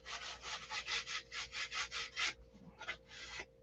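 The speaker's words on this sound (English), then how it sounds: "you always want to shape with coarse sandpaper" Coarse sandpaper shaping a piece of wood: about a dozen steady, rhythmic rasping strokes, close and clear, then a few slower, uneven rubs, with no voices.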